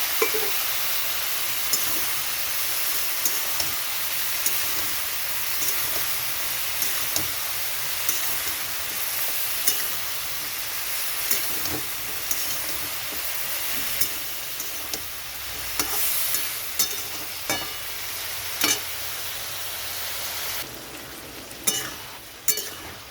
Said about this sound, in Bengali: একটু কষিয়ে নিয়ে তারপরে আমি এখানে ডাঁটাটা দিয়ে দিচ্ছি, দস্তকচুর ডাঁটা।